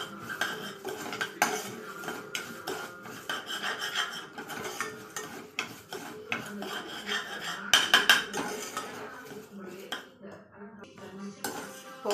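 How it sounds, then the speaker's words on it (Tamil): Moong dal roasts in ghee in a metal pan as a spoon stirs and scrapes it, with continuous rasping and clinking of metal on metal, close by and fairly quiet. "கொஞ்சம் நெய் விட்டு வறுத்துக்கணும்."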